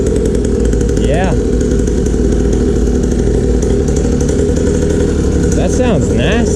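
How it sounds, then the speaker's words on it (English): A Syx Moto mini dirt bike engine runs loudly and close through its small exhaust, a steady raspy drone with a couple of brief throttle blips, while people talk over it. "Man, that's a nasty little exhaust on there, bro. It sounds good."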